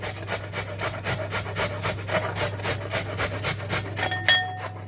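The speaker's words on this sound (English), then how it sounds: "grab a bowl, grab a cheese grater, and let's get grating" Carrots grated on a metal cheese grater into a bowl: steady rhythmic rasping strokes, about three per second, close and fairly loud over a low hum, ending with a light clink.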